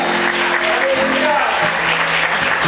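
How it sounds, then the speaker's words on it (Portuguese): Dense, steady applause from a church congregation during a Sunday morning service, filling an indoor space, continuous throughout with faint voices mixed in. "Quantos podem aplaudir o Senhor nessa manhã?"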